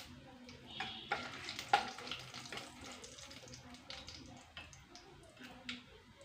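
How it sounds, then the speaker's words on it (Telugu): Two dried red chillies and a few curry leaves go into hot oil for tomato dal tempering, giving a soft, continuous sizzle with a few stirring scrapes and clinks of a spoon against the pan, close by and quiet. "ఆయిల్ వేడెక్కిన తర్వాత 2 ఎండుమిరపకాయలు, కొద్దిగా కరివేపాకు వేసి 1 నిమిషం ఫ్రై చేద్దామండి"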